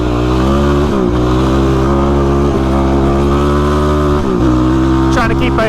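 Off-road vehicle engine revving loud and close while climbing rocky desert hills, a steady droning roar with pitch shifts as the throttle rises and falls, and a voice joins briefly near the end.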